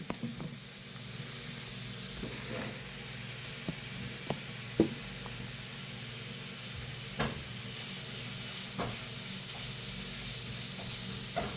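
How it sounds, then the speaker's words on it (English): Meat sizzles in a hot pan as it is stirred, a steady hissing fry with scattered clicks and scrapes of the utensil against the pan, fairly quiet and close, with no talking. "You kind of stir up the meat."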